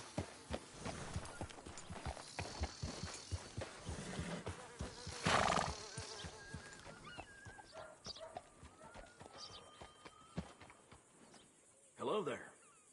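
A horse in a video game whinnies and clip-clops at low level, hooves tapping rhythmically beneath background game sounds, with a louder snort-like burst near the end; no speech.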